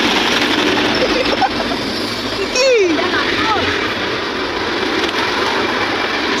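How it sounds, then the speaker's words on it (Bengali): A train rolls past in a loud, continuous rumble and roar, with a brief high squeal partway through and a voice speaking briefly over it. "আবার ট্রেন আসছে"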